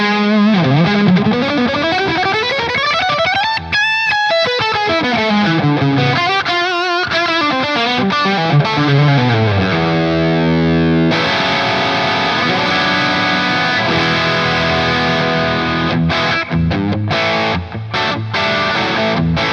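An electric guitar through a Dophix Michelangelo Overdrive Plus pedal with the boost turned right up, playing loud, sustained overdriven riffs and bends, then a run of thick distorted chords, continuous and close.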